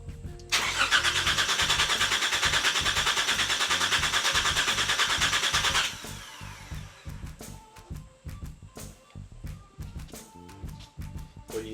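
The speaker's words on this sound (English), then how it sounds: "Crank it, Timmy, give us a..." A V6 engine cranks over on the starter, a loud, fast, even churning for about five seconds, then settles into a rhythmic chugging turnover without firing cleanly.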